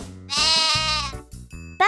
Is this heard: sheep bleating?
yes